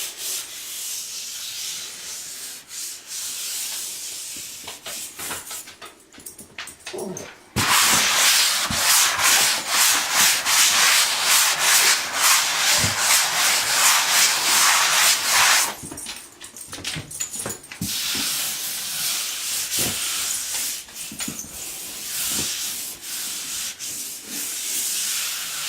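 Sanding block rubbing over dried spackle on a patched drywall wall, a steady scratchy friction that rises into a louder, continuous stretch in the middle before easing back to lighter strokes.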